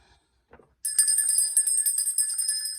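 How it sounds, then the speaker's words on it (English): A bright bell rings out after a short quiet pause and a small knock, then sustains with shimmering, overlapping tones that ring loudly through the rest of the moment. "Ringing the bell because, whew."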